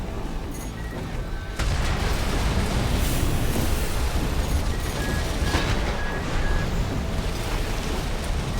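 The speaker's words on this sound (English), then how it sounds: "I think I boosted back into the explosion there." Explosions in Armored Core 6 gameplay: a sudden loud burst of broadband rumble that then holds as a sustained roaring wash with scattered crackle and faint tonal beeps.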